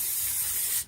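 A rubbery plastic anti-rust rocker guard coating sprays from an aerosol can in one loud, steady hiss up close, lasting under a second and then cutting off abruptly.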